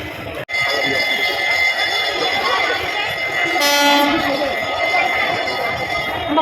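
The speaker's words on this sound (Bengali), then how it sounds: "এখন ট্রেন আসতেছে, তার জন্য দাঁড়িয়ে আছি।" A train pulls into a busy station with a loud, continuous rumble. A horn sounds briefly midway, and voices from the waiting crowd mix in.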